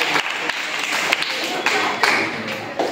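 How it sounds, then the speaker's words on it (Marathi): Classroom of secondary school students clapping during a quiz, a short burst of fairly close, uneven applause with a voice heard briefly over it. "ऋषिकेशसाठी सगळ्यांनी टाळ्या वाजवायच्या"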